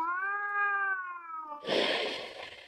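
A pet cat gives one long, clear, drawn-out meow close by, followed by a burst of rustling noise as the sound ends, with no one talking.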